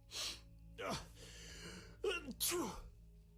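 A character in The Witcher video game sneezes several times, sharp bursts with breathy intakes between them, each separate and close, in a quiet scene with faint background hum.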